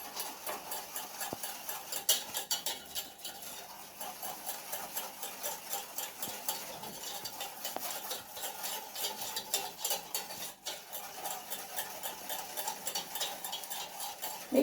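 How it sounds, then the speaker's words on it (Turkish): Brownie batter with cocoa is stirred in a bowl, a soft continuous scraping and ticking of the spoon against the sides, quiet and close with no talk. "Şimdi bunları karıştırıyoruz."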